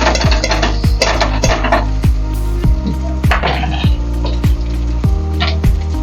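Boal fish frying in oil with chillies, a loud close sizzle with frequent sharp metal clanks and scrapes of a spatula against the pan, steady throughout with no talk.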